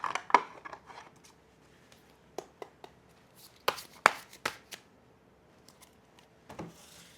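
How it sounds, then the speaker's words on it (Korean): Tarot cards are shuffled for a pet tarot reading: scattered sharp, papery snaps and soft taps close by, in irregular bursts with quiet gaps, and no talking. "조언 카드 한 장 뽑아볼게요."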